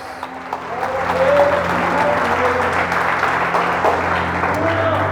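A church congregation breaks into applause during a sermon, a broad wash of many hands clapping that swells after the first second and holds steady, while a voice carries faintly underneath.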